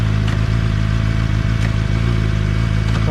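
A KOVE 450RR motorcycle at night inside a tunnel, its engine a loud, steady low drone with harmonic layers and occasional clatter, holding a fairly constant pitch close by.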